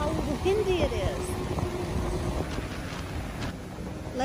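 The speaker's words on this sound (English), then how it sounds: "I can't believe how windy it is." Strong wind buffets the microphone at an RV campsite on the Lake Superior shore, a steady rumbling roar with gusts; a person's voice rises briefly in the first second.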